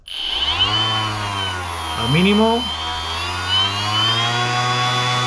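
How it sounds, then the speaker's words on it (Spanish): Electric sander with a 125 mm disc and a six-step speed dial, whining steadily at low speed and then at high speed, with a close, loud, constant motor tone. Someone speaks briefly over it. "podemos regular la intensidad con la que la lijadora nos va a trabajar"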